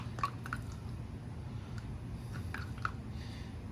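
Blue Magic metal polish cream is stirred with a screwdriver, giving faint, wet squishing and small clicks over a low steady background hum, close and without talk.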